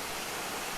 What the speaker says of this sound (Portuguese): O barulho da água é algo que nos convida a rezar